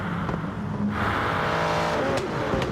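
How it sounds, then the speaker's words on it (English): Gran Turismo GT-class race car engines roar at high revs at Spa, loud and close, with a rising, buzzing pitch as the cars accelerate. "You can just hear the difference in the engine notes of these cars"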